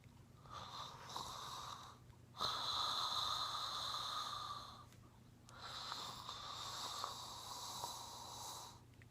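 Victorious breathing through the nose: a long airy inhaled 'saw' sound and an exhaled 'ha' sound, each with a hoarse, wheezy, snore-like rasp, repeated in slow cycles with short silent pauses between.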